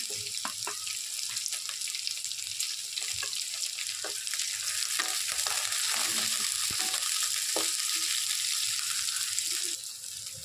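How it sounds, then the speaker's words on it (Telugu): Green chillies and onion dropped into hot oil for a cucumber and dried fish curry, giving a steady, loud sizzle and crackle with occasional stirring clicks, and no talking. "ఆయిల్ వేడైన తర్వాత పచ్చిమిర్చి అలాగే ఆనియన్ ఉల్లిగడ్డ వేస్తున్నాను"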